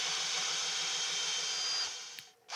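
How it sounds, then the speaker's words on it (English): A 120 grit 70mm sanding arbor on a power tool whirs steadily against a wooden plate with a continuous hissing drone, then cuts out briefly near the end before starting up again. "Finish off with a 120 grit 70mm sanding arbor."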